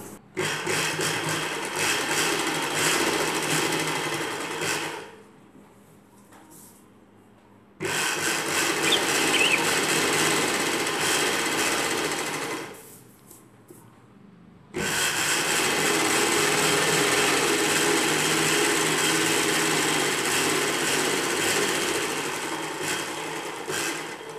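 A sewing machine stitching a night dress runs in long, steady bursts, three runs of continuous rattling whir broken by two short pauses. No talk is heard.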